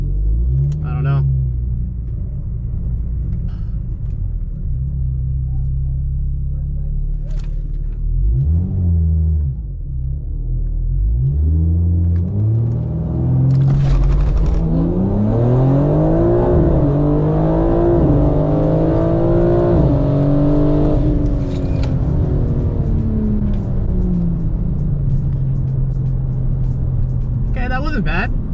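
Rear-wheel-drive BMW G82 on a drag strip, engine held at steady revs on launch control, then surging hard through rising, stepped gear pulls before settling back to a rumbling idle, heard from inside the car.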